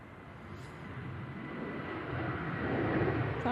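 A Boeing 737 airliner taxiing at Manchester Airport gives off a steady broadband jet engine roar that grows slightly louder over a few seconds, heard from a moderate distance with no talk.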